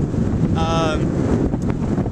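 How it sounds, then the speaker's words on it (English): Strong, gusty wind buffets the microphone high on the Tongariro Crossing, a loud, constant low rush with a brief whistling tone partway through. "it is flippin' windy up here"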